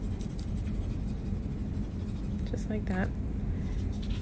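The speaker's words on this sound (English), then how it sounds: "you're putting a nice layer of graphite or pencil" A pencil scribbles graphite onto the back of a cut-out paper shape, a steady soft scratching that runs throughout, with a brief spoken phrase over it.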